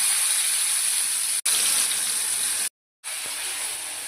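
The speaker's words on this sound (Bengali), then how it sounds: "সর্ষের তেলের মধ্যে একটু কালো জিরে ফোড়ন দিয়ে এর মধ্যে চিংড়ি মাছটা ছেড়ে দিতে হবে।" Prawns frying in mustard oil tempered with nigella seeds give a loud, steady, close sizzle that is broken by one brief dropout and then a short silence before the frying resumes.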